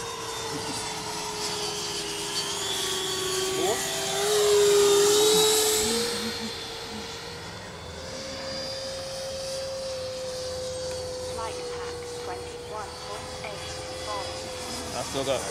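An RC Avanti model jet with an 80mm electric ducted fan screams by in a shrill, sustained whine that rises in pitch, peaks loudly at mid-pass, then settles into a steadier tone, with people talking throughout.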